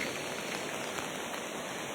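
Rain falls steadily in a forest beside a stream, a constant soft hiss of drops on surfaces with no voices.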